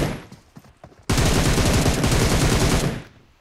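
A shotgun fires in the mobile battle royale game BGMI, with a few faint clicks and footsteps leading to a sudden loud, continuous roar of gunfire that lasts about two seconds before fading.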